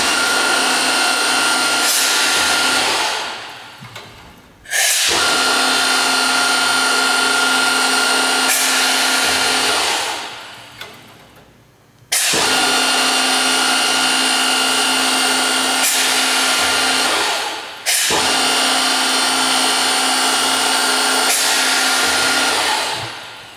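Ritter R46 vertical-horizontal boring machine with Leeson 3 horsepower motors running in loud, steady whining bursts, each lasting several seconds and then spinning down or cutting off before starting up again.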